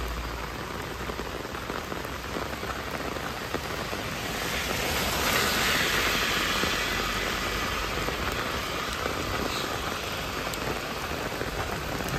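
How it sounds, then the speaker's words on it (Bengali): Heavy rain pours onto a road near Jhakri Falls Park in Gangtok, a dense, constant hiss of drops with a brief swell midway and no voices. "প্রচণ্ড বৃষ্টি, রাস্তায় জল দেখুন।"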